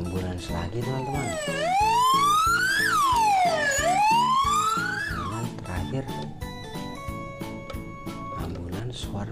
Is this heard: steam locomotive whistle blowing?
no